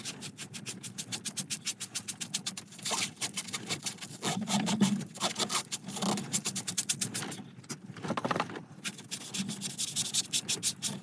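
A sponge rubbed back and forth over a turned wooden bowl, a rapid rhythmic scrubbing close by with short pauses, steady and moderately loud.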